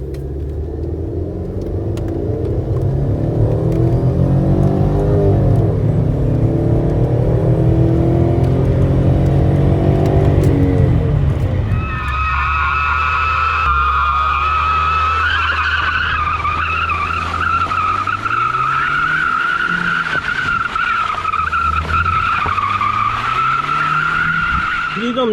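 A Mercedes C180 W203 sedan revs hard and accelerates through its gears from 0 to 100, then lets out a long, loud tire squeal during a burnout as the engine rises and falls beneath it.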